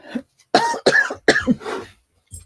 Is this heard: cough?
yes